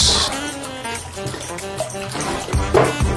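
Ice-cold water is poured while hash browns are being prepared, a splashing, running wash heard over steady background music, loudest at the start and again near the end.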